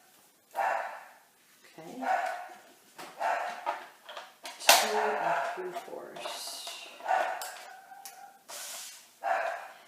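A neighbour's new dog barks and whimpers in short bursts nearby, several separate yaps and snorts spread across the stretch while a person speaks briefly over them.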